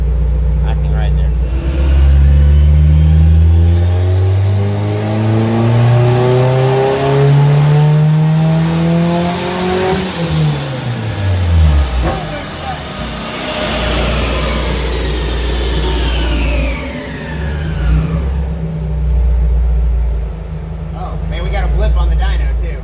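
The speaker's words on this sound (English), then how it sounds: "It hit a 19-pound boost cut right now with no boost control on." A turbocharged 1992 Honda Civic Si hatch with a B18C1 engine revs hard on a dyno, climbing loudly through a long pull, hitting a boost cut, then dropping back to a rough idle before revving again.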